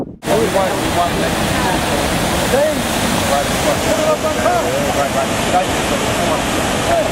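Water pours steadily over a 14-foot dam, a dense, loud rushing roar that starts abruptly and holds constant, with faint voices mixed into the wash.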